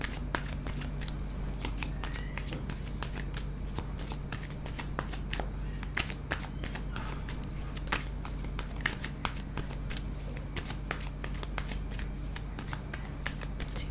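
Tarot cards being shuffled by hand, a steady run of quick crisp riffling clicks and slides repeating throughout, close and fairly quiet over a low background hum.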